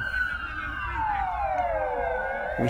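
A police car siren wails loud and close near a fire in Mamaia Nord, Romania, its tone sweeping steadily down. Background traffic rumbles underneath.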